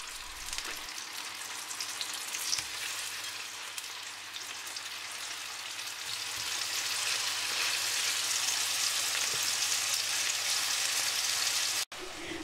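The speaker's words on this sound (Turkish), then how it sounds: "Bir miktar zeytinyağı ilave ettim. Daha sonra marina balık filelerimi tavama koydum ve iki taraflı yaklaşık 3-4 dakika kızarttım." Marina fish fillets frying in olive oil in a pan give a steady, close sizzle and crackle, continuous and fairly loud throughout with no talking.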